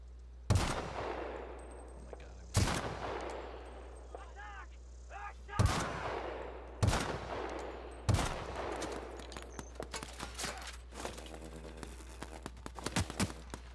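Five loud, booming shots from a close-range gun in a video game, spaced a couple of seconds apart, each trailing off in a rumbling decay, with game sound effects and clicks between them.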